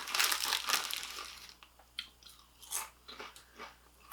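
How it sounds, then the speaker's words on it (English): Imported Irish potato chips crunch between the teeth, a burst of crisp bites followed by rhythmic close chewing crunches that fade gradually, with no talking. "I think the crunch isn't quite as good as the Lay's."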